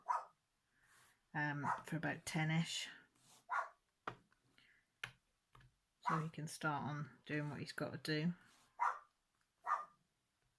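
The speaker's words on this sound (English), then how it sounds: "That's the dog, sorry, there's another dog outside barking somewhere and she can hear it" A dog barks indoors in answer to another dog barking somewhere outside, its barks mixed in with a person talking steadily nearby.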